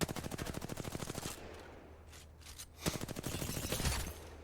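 Rapid automatic gunfire from a weapon in Apex Legends, with Rampart's amped cover boosting the reload; a fast burst, a short gap with reload clicks, then another burst, loud and close.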